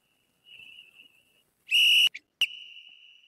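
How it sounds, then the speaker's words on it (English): A referee's whistle sounds in short shrill bursts: a soft tone, then a loud sharp blast, a brief chirp and another blast trailing into a quieter tone, with no voices. "Blow the whistle. Blow the whistle, man."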